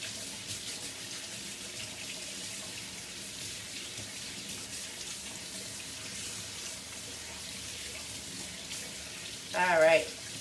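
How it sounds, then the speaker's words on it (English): Running tap water splashing over hands at a sink during an acrylic pour painting session, a steady soft rush throughout with a brief louder splash near the end. "let me rinse my hands off"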